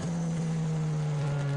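An on-board Formula 1 car engine failing at Monza, a steady drone holding one high pitch, loud and close, with a rough rattling edge and no speech.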